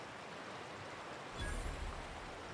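Steady rushing wash of a waterfall in the video game The Outer Worlds, a broad even roar that swells slightly louder partway through, with no one speaking.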